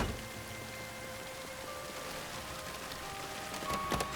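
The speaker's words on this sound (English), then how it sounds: "it's a rainy day, so we're, might as well take advantage of the rain and do some driving" Steady rain falls in the survival game Project Zomboid, an even, continuous hiss of drops with no voices and a slightly louder patter near the end.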